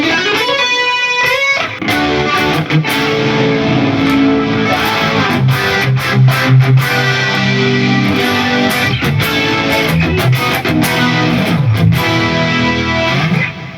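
An electric guitar plays through a Marshall JCM 800-style crunch tone on a Fractal Axe-FX III, mildly overdriven, mixing sustained legato notes and quick picked runs, loud and continuous with no voices.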